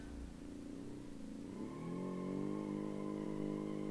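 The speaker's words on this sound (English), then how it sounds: "because you keep the engine revving high" A small car engine in a classic rally video game revs high, its droning whine climbing in pitch partway through and then holding a steady, rising tone.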